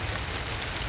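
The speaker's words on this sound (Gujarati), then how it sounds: "મોટા મોટા સાંઠે વરસાદ આવ્યો" Heavy rain with big drops falls steadily on a surface in a village, a dense even patter with no voices.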